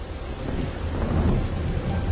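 Heavy rain pours steadily during a Chennai downpour under red-alert flooding, with low thunder rumbling continuously beneath the dense hiss of rain, loud and close throughout with no voices.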